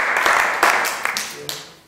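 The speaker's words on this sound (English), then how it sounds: "Yeah, you can clap." Church congregation clapping and applauding during a sermon, a short burst of dense, fairly loud applause that swells and then tapers off, with some voices mixed in.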